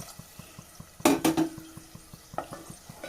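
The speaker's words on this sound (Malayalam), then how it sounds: "ഞാനിപ്പോൾ നല്ല തിളച്ച വെള്ളമാണ് ഒഴിച്ചു കൊടുക്കുന്നത്" Boiling water is poured into a pan of frying Kerala-style egg curry gravy, a brief loud splashing gush lasting about half a second, followed by softer stirring clinks and scrapes against the pan.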